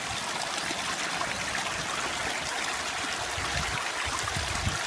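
Sewage water trickles and flows in a steady, continuous wash toward the sea, a close and fairly loud gurgling rush with no voices.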